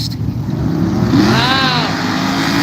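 At a dragway, a Camaro and a white truck launch side by side, their engines revving hard and climbing in pitch as they pull away, loud and close.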